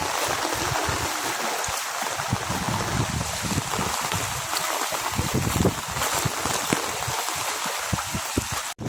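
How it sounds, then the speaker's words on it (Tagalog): Floodwater surging and rushing through Burdeos, Quezon during Typhoon Enteng, a steady loud broadband roar of flowing water with wind and spatter, continuous throughout with no voices. "Patuloy pa rin po yung pagtaas ng tubig."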